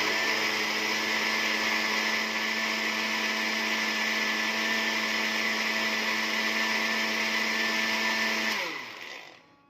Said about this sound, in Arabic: انا قطعت الطماطم بتاعتي في الخلاط زي ما حضراتكم كلكم عارفين، واضربها في الخلاط